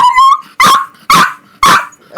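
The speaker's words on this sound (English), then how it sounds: "This dog really sounds like this." A dog barks in four loud, close, separate bursts, opening with a drawn-out, whining high yowl before the sharp barks, with short pauses between them and no talk.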